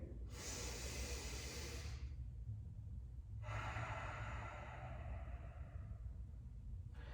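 Slow, deliberate breaths during a standing balance exercise: a long airy exhale, a pause, then another extended breath and a brief third, close and soft over a quiet room hum.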